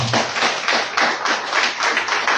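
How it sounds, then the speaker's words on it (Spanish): Applause from a church congregation, a steady fast patter of many hands clapping close and loud throughout, with no voices over it. "Mande un aplauso que Dios bendiga."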